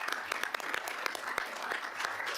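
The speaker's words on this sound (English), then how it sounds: "just want to acknowledge Alec Tang with a round of applause." A committee meeting gives a brief round of applause, dense steady clapping from a small group in a room, moderately loud and lasting a couple of seconds.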